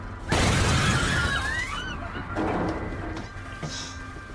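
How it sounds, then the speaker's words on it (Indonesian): A sudden loud crash as a body is thrown into an ambulance window, with scattering glass debris, followed by a squealing monster-like cry and further thuds and movement. "badan John yang sekarang udah jadi bangkai pun terlempar ke kaca mobil ambulans."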